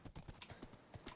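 Rapid, even hoofbeats clop from a horse in a Minecraft UHC match, a quick run of soft knocks that stays faint and steady across the short stretch, with no voices over it.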